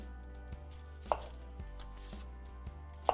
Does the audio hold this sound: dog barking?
no